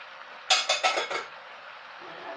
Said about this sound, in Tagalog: Haluin lang natin, mga Inday